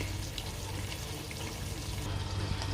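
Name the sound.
chickpeas added to hot oil, frying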